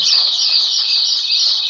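Birds chirping as a sound effect in a Maithili drama: a dense, continuous high-pitched twittering of many small birds, steady and fairly loud, with no talking over it.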